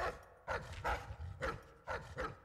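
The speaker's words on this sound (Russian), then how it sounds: "Что-то собака, что ли?" A dog in Dishonored 2 barking in a run of about five gruff barks, fairly faint and somewhat distant, with no one speaking.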